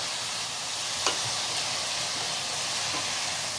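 Sliced okra (bhindi) frying in a pan for bhindi masala, a soft steady sizzle and hiss with one faint clink partway through, quiet and continuous.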